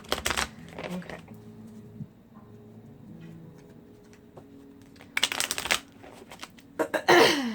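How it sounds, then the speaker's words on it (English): A deck of tarot cards is shuffled by hand in brief papery bursts, one at the start and a longer flurry near the end. A quiet stretch with soft handling noises separates them. "I'm going to start shuffling again"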